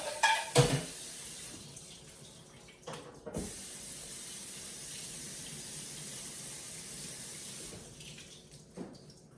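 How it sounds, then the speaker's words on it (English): Drained canned great northern beans are rinsed under a running kitchen faucet, a steady close hiss of water with a few clanks of the can or dishes at the start and end. "I'm going to drain the other can and rinse them well"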